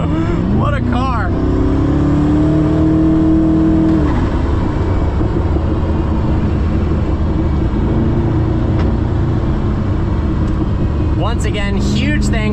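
Close up from inside a Koenigsegg Regera, the engine drones loudly and pulls hard as the car accelerates, with the pitch climbing in a long sweep. A voice breaks in near the end.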